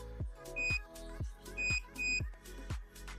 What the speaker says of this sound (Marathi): आता बंद झाला बीपचा आवाज.